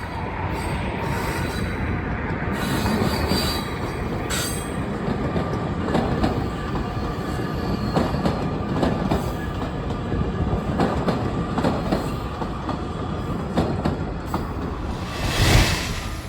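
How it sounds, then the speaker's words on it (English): An outbound Metro Electric train rolls through a park behind the Art Institute of Chicago, a steady rumble of wheels and cars with rhythmic clicks and a brief squeal near the end, continuous and moderately close. "an outbound Metro Electric passes through the park directly behind the Art Institute of Chicago"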